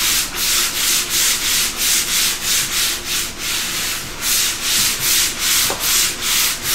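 A wooden cradle board is sanded by hand with 220 grit sandpaper in steady, rhythmic back-and-forth strokes, about two per second, close and continuous with no talking.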